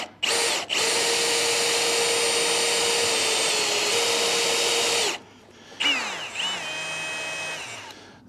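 A slightly bent power drill whines at high speed in a long steady run, then stops and spins up again briefly, loud and close with no talk.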